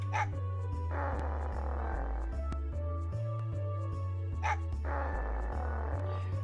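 Small dog barking in the Mega Man Legends video game, a few short yips rising over steady in-game background music.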